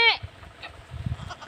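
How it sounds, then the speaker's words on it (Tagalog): A goat on a farm gives one short, clear bleat at the start, followed by softer low background sounds and faint distant calls. "Yun ang kambing ko mga idol. Yun mga kambing."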